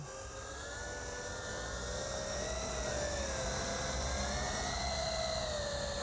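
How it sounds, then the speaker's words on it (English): A Revell Hexatron multicopter drone's high, steady whirring buzz with shifting pitch, hovering nearby and holding loud throughout without a break. "this is my first ever flight of a drone helicopter"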